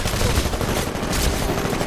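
Dense, continuous gunfire from the Titanfall video game, a loud rapid rattle of automatic shots layered with bursts that fills the whole stretch without pause.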